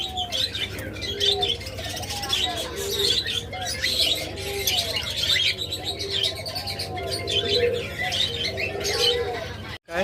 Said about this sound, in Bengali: প্রথমে এখানে দেখতেছেন চমৎকার যে রিনেক রয়েছে